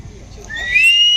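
A person whistles a single rising, sustained note, close and fairly loud, over a faint low background murmur.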